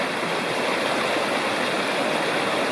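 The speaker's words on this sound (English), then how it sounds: "This is Lost Cove Creek" Lost Cove Creek rushes steadily over rocks, a dense, even hiss of flowing water heard close and continuous with no voices.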